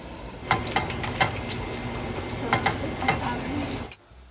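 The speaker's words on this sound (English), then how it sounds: "you fry it up in the bacon grease because it makes it delicious" Food fries in bacon grease in a pan, hissing in a continuous sizzle close by, with several sharp scraping knocks from stirring and a quick drop to quiet at the end.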